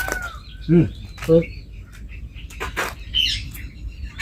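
Several short sparrow chirps, bright and close, scattered over a few seconds with a quiet outdoor background between them.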